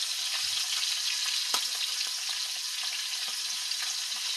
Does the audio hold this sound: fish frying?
yes